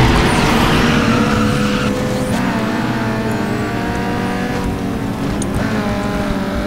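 A car accelerates hard in the Need For Speed: Underground 2 racing game, its engine revving loud and close with rising pitch through gear changes.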